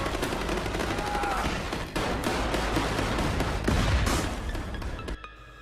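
Sniper gunfire in an action film scene, with dense, rapid shots and loud booming bursts roaring continuously for several seconds before cutting off abruptly.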